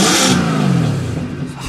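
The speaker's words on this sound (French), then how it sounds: "Je vais faire quelques rupteurs valves fermées," A Mercedes C63 AMG with its exhaust valves closed is revved hard to the limiter, a loud, close burst of engine noise that peaks, then falls away as the revs drop.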